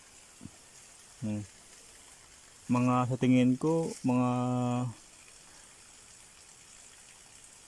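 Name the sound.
water flowing strongly from a pipe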